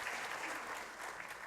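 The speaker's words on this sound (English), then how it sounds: "Round of applause." Applause from a conference audience at a GeoServer 2018 session, a steady, moderately loud wash of clapping hands that fills the whole stretch without a break.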